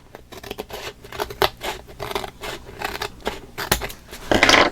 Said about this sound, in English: Then I'm just going to take my scissors and cut that little teeny bit that's hanging off.